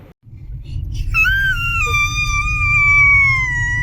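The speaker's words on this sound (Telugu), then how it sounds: "అరుస్తున్నాడు." A young child screams in a long, loud, sustained wail that slowly falls in pitch, close by inside a car on a family road trip to their village, with a low engine rumble underneath.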